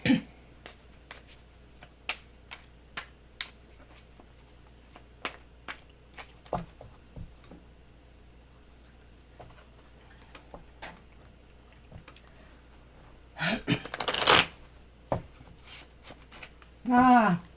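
Quick papery tarot card riffles and taps in a quiet room, several soft flicks and a louder burst of shuffling near the end, with a brief voice.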